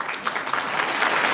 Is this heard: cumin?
no